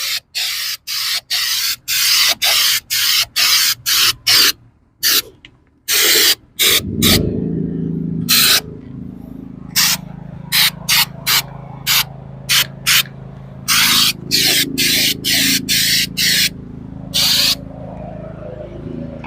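An aerosol can sprays chrome paint in a rapid series of short, loud hissing bursts, then longer sprays over a low rumbling background.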